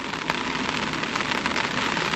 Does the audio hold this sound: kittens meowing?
no